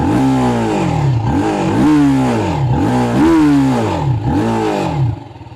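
TVS Apache RTR 310 single-cylinder motorcycle engine running close by, blipped in a regular series of rising and falling revs with a throaty pulse, then cut off abruptly at the end.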